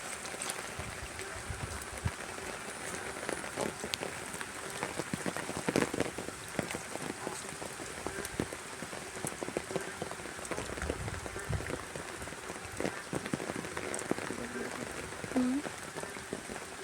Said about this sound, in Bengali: এই যে প্রচুর বৃষ্টি।